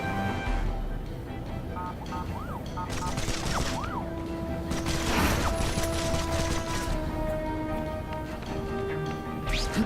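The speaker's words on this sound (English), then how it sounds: "Friendly neighborhood fireworks." Fireworks burst in The Amazing Spider-Man 2 video game, a rapid crackling barrage of pops and bangs layered over game music and noise, peaking midway, with whistling tones rising before some bursts.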